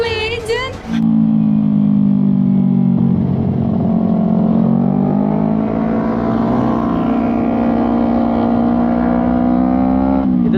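A Yamaha R25 motorcycle being ridden, its engine holding a loud steady drone close by, rising gently in pitch midway, with a brief burst of talk at the very start.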